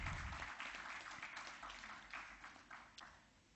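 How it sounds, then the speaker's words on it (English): An audience at an engineers' safety convention applauds a guest of honor, a faint, scattered clapping that gradually thins out over a few seconds in a large hall. "a round of applause for our guest of honor"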